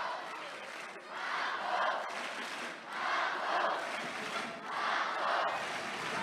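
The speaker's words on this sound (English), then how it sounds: "can hear the French crowd shouting Margot in support" A French crowd at the European Judo Championships mixed team final in Mulhouse chants "Margot" in support, rising in three rhythmic swells of massed voices over a steady arena roar.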